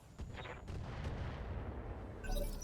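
Weapons fire heavy rounds at a thumper emplacement in the RogueTech mech game, a sustained rumbling barrage of booms and blasts, fairly quiet overall, with a fresh impact near the end.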